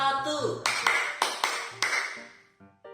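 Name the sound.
group hand clapping pattern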